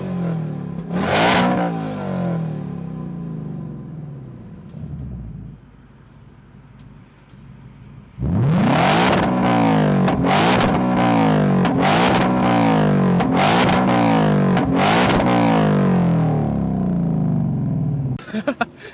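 A 2024 Ford Mustang GT Performance with active exhaust gives one loud rev, idles quietly for a few seconds, then fires off a run of sharp, repeated throttle blips that roar close by and fill the rest of the clip.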